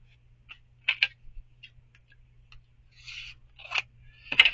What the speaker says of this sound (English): let's cut it in half again